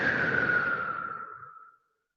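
A long breath pushed out through the mouth during a yoga session, one steady airy whoosh close to the microphone that fades out after about a second and a half and leaves silence.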